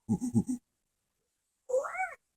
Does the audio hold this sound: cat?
yes